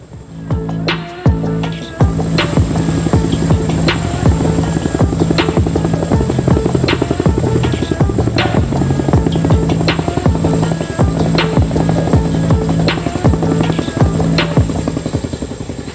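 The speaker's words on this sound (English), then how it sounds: "Now in front of us, you can see the Chinooks living up to their unit name of featherweights." Chinook helicopters hover low over a lake at an air show, their loud rhythmic rotor thumping steady and near for the whole stretch.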